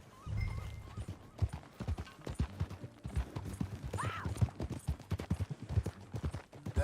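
Horse hooves clip-clop in a steady trotting rhythm while riding in Red Dead Redemption 2, close and clear, with a brief whinny partway through and a low rumble underneath.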